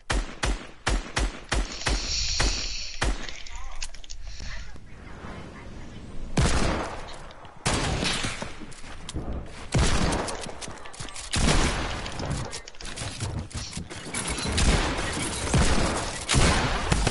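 Rapid bursts of video game gunfire, dense volleys of close, sharp shots with brief gaps, loud and continuous across the whole stretch.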